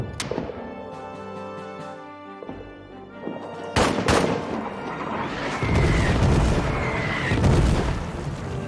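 Suppressing gunfire in a WWI trench warfare video game: sharp shots and heavier booms cracking out irregularly over a dense, loud battlefield din, with an early tonal music-like bed giving way to a louder rumble.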